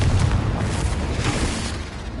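A Confringo fire spell explodes in the Hogwarts Legacy video game, a loud, dense burst of roaring, crackling blast that rumbles steadily throughout without a clear pause, with no talk over it.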